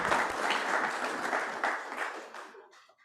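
A room of guests at a Rotary young achievers award ceremony in Melbourne applauds a recipient, giving dense, steady clapping that holds strong for about two and a half seconds before quickly fading out.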